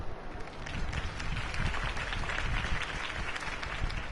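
A crowd applauding steadily in a Batman video game on PS4, dense clapping and cheering that stays sustained and fairly loud throughout.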